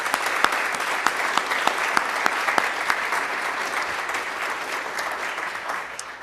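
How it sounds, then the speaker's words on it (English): An audience at an Oklahoma Municipal League honor roll ceremony applauds people recognized for 25 years of service, sustained clapping with sharp individual claps that gradually thins out. "if you would join me in a round of applause for those who are being recognized for their 25 years"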